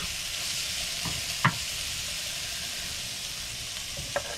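Vegetables are stir-fried for a garlic and ginger chicken dish, giving a steady hiss and sizzle throughout, with a few brief clinks and scrapes of a utensil against the pan.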